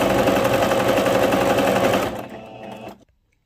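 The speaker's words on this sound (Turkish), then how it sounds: "Şimdi bu iki dikişi dikiyoruz." A sewing machine runs in a steady, rapid whir as it stitches a lined plush zipper bag, loud and close for about two seconds, then slows and stops.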